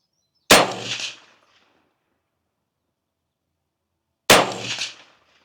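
Two sharp metallic clangs of .22 Magnum rounds striking a large steel target, spaced about four seconds apart, each ringing briefly before decaying into silence; no talk.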